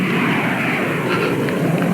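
A propeller airplane engine roars steadily and loudly throughout as the plane departs, a continuous broadband drone used as a sound effect in a comedic radio play.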